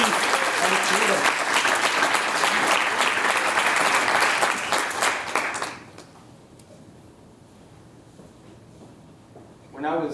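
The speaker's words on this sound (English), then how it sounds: "Let's give up a nice round of applause for our very last speaker of the evening, Brian O'Keefe" An audience gives a round of applause for the final speaker of an evening talk, loud dense clapping for about five seconds that fades to quiet room tone, with a voice returning at the end.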